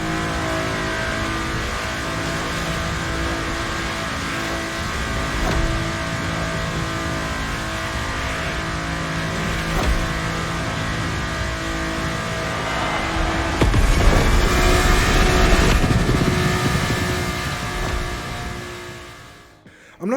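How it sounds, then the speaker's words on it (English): Car engine sounds from the racing video game The Crew Motorfest: a sustained, gruff engine drone that revs up and surges louder toward the end before dropping off abruptly, with no voices. "There's a lot more grunt to the car sounds"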